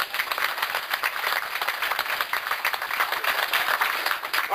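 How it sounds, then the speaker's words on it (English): An audience applauds a bikini contestant at a Harley-Davidson bikini contest, a dense, steady wash of many hands clapping that stays loud and continuous throughout, with no talking. "How about a round of applause"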